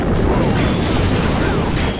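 A mortar fires in a strategy game, giving a short, dull booming burst among busy battle clatter over two seconds, no talking.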